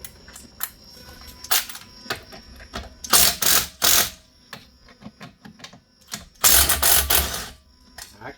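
Ratchet clicking in short bursts while loosening the seat bolts on a 2007 Nissan Titan truck, with sharp metallic clatter and pauses between strokes, close and fairly loud.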